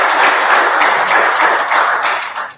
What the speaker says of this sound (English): We must give them a round of applause for coming.